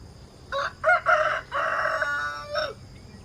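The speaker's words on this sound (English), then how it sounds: "cock-a-doodle-doo" A rooster crows close by, a loud cock-a-doodle-doo in several broken bursts over about two seconds with a short final note.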